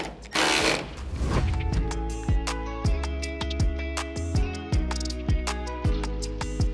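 A ratchet tightens screws on a Ford Super Duty tail light, clicking in a fast, steady run of sharp repeated strokes that sound close and loud with no one talking.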